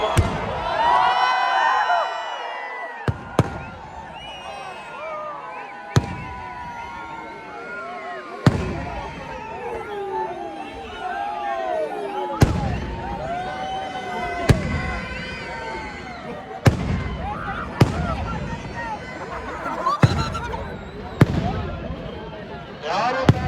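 Firecrackers burst at a night cracker festival at Siddaganga Mutt in Tumakuru: about nine sharp, loud bangs at irregular intervals over a steady crowd murmur, while an amplified announcer speaks throughout.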